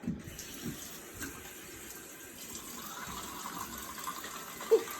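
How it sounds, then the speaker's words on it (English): Tap water runs steadily into a sink while hands are washed, a soft and fairly quiet splashing flow that continues throughout with no one speaking. "Wash your hands like this."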